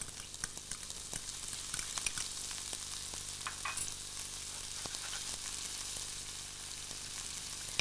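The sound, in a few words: chilies, garlic and onions frying in a hot pan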